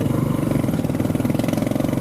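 A motorcycle engine drones steadily on a street in the Philippines, a close, continuous mid-pitched rumble with a fast pulsing beat and no speech.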